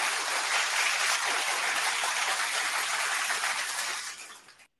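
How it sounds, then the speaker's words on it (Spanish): Broad, dense audience applause at an urban evening show, steady and loud for about four seconds before fading out, with no talking over it. "El aplauso."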